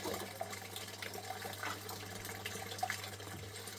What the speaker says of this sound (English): We can always use the snuffer bottle to, excuse my arm, draw a bit of water in